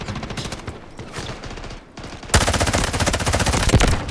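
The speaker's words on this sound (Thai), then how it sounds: "เพื่อนยิงอยู่เพื่อนยิงสวยงาม" Sustained automatic weapon fire in the video game Delta Force, rapid rattling bursts with a brief lull before a louder, denser stretch of close shooting that keeps going to the end.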